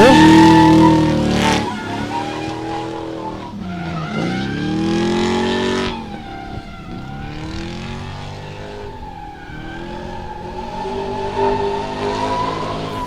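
A drift car at Meremere Drift Park in New Zealand revs hard and loud with squealing tires, its engine pitch sweeping up and down through repeated throttle bursts over a long pass.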